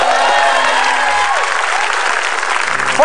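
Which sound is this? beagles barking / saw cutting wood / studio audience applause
studio audience applause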